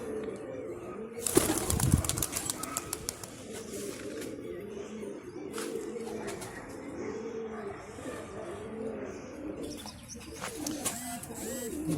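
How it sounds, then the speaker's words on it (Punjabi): A burst of wing flapping as pigeons take off, followed by soft cooing and scattered rustling at a moderate distance. "ਦੋ ਕੂਤਰ ਛੱਡਣ ਲੱਗੇ ਬਈ ਆਪਾਂ"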